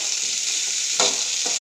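Onions and spices sautéing in a pan before tomatoes go in, giving a steady loud hiss with a couple of brief stirring scrapes, then cutting off abruptly.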